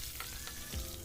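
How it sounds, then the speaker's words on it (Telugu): A tempering of dry chillies, cumin, mustard seeds, chana dal, urad dal and garlic frying in oil for a banana flower masala gives a steady close sizzle, alone without talk. "పోపు చక్కగా వేగిపోయింది."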